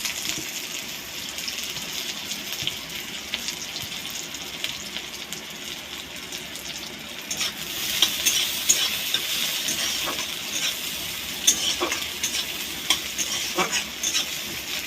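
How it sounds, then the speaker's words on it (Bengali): Chopped onions fry and sizzle in a pan after garlic and chillies, with a steady crackling hiss and scraping strokes of a spatula stirring them, close and continuous. "এবার পেঁয়াজ কুচিগুলো একটু হালকা করে ভেজে নেব"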